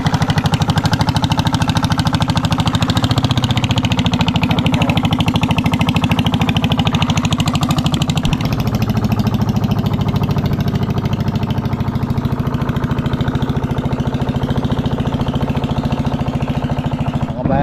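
A motorboat engine drones loud and unbroken at close range while towing a fishing net across a large fishpond, with a steady chugging rumble throughout.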